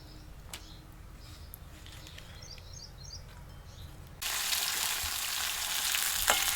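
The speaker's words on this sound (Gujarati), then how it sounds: "હવે આપણે આને તળી નાખી મરચાં અને તુરિયાની રગુ" Chillies and ridge gourd are dropped into hot oil and fry with a sudden loud, steady hiss partway through. Before that come quiet kitchen sounds with faint bird calls in the background.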